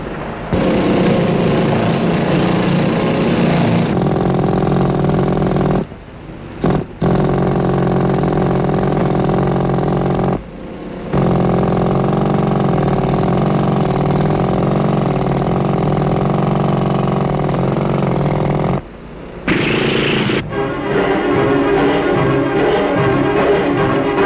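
Loud, relentless mechanical hammering of pneumatic jackhammers breaking coal in a mine close by, a dense steady clatter broken by a few short pauses, with no voices.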